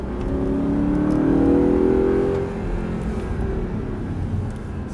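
An Audi R8 4.2 accelerates hard, its engine note rising and swelling loud and close for about two seconds before settling into a steady drone, with no talking over it.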